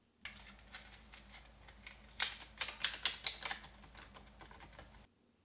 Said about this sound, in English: Now we're going to fold this in half again.